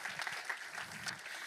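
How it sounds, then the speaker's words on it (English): Audience applause for university research competition finalists, a soft, steady patter of many hands, fairly distant and low, with faint murmuring voices underneath. "can I please have one round of applause for our VYT finalists?"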